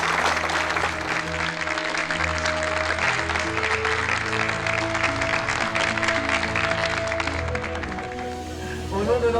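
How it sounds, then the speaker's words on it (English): A gala-evening audience aboard a cruise ship applauds the crew, a loud, sustained wall of clapping over a steady musical backdrop that fades slightly at the end. "on peut les applaudir tous, toutes et tous très très fort"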